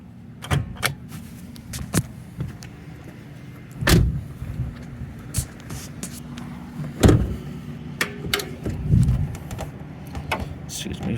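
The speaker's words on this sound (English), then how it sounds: "First step, popping the hood." Hood of a 2001 Mitsubishi Eclipse being released, with a series of scattered close clicks, thumps and latch knocks over a steady low background hum, while a person talks intermittently.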